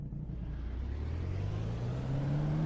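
Skip Barber race car in the iRacing game at the Zolder circuit, its engine droning steadily and rising in pitch as it accelerates down the straight, loud and alone with no talk.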